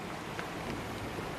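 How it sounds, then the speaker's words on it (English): Heavy rain pours steadily onto a shed roof, a dense continuous hiss and patter that stays loud and even for the whole short moment with no voices. "It's raining."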